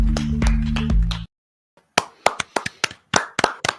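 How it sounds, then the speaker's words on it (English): A handful of sharp, separate hand claps from a podcast host, uneven and close, coming after a brief bit of music and a pause of silence. "I really heard you clapping that time."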